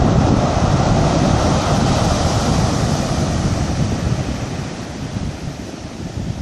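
Sea waves surge and wash onto Cambaie beach on Réunion at dusk, a loud, continuous roar recorded a few metres from the water's edge with wind buffeting the microphone, slowly easing toward the end.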